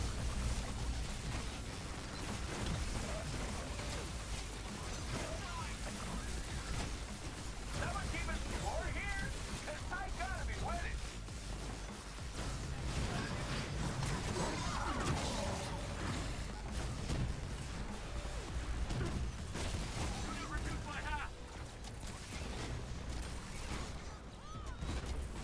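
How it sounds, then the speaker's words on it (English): Dense, continuous barrage of rocket fire from Iron Man during rocket-spam attacks in a Marvel video game, with rapid overlapping blasts and mechanical whirring held at a steady loud level throughout, with voices mixed in. "we're gonna rocket spam"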